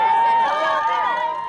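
A loud, dense crowd of protesters shouts and cheers all together at a Prime Minister's speech, the voices close, continuous and overlapping with no pause.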